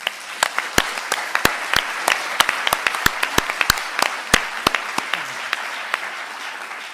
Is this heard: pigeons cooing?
no